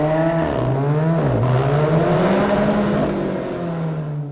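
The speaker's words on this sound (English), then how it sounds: "True Alfisti will immediately recognize the distinctive Alfa Romeo 4C exhaust note, produced by a specially tuned exhaust." Alfa Romeo 4C Spider with a specially tuned exhaust that skips the muffler, revved at the 2015 Detroit auto show: a loud, close engine note rising and falling in pitch over a few seconds, heard alone.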